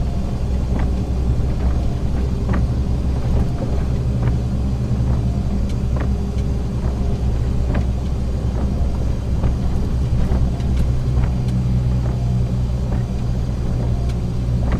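Loaded tractor-trailer carrying 16 tons, rolling over a rough, slippery road in wet weather: a steady, loud engine and tyre rumble with road noise and occasional knocks and jolts, continuous throughout.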